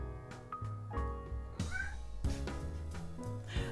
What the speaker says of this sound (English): what am I hearing in the background? Well, of course it's the cat.